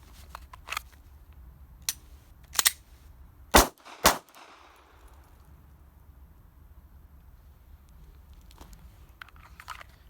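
Pistol shots fired on a range during a defensive pistol qualification, sharp, loud cracks spaced irregularly, a few in close pairs, with quiet stretches between and no talking.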